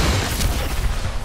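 Gunfire during an Apex Legends firefight: a dense, continuous clatter of shots with low rumbling booms, heavy and close, with no talk over it.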